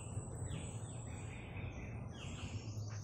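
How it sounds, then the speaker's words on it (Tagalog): Birds at the Tagum City bird park chirp and call in quick repeated trills, fairly close but soft, over a low bed of insect buzz and ambient hum. "maririnig nyo puro boses ng ibon"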